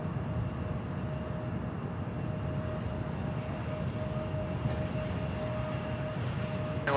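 Airliner taking off at Charlotte Douglas International Airport, heard as a steady, moderately distant jet roar and rumble with a faint tonal whine throughout.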